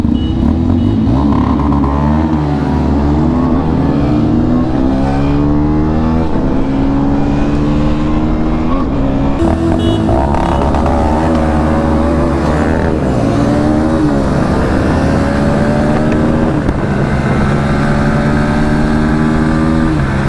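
A KTM Duke 160 motorcycle runs hard in a drag race against Pulsar NS160 and N160 bikes, its engine note loud and continuous through rising gear-by-gear revs and shifts for the full stretch, with no talking.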